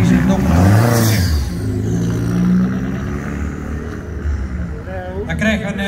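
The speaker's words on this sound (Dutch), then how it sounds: "En ik denk dat de Audi motor dat hij dus in deze Donkervoort zit." A Donkervoort sports car with an Audi engine drives past at a motorsport event in Hulst, its engine droning loud and close and rising in pitch as it passes, while a commentator talks over it.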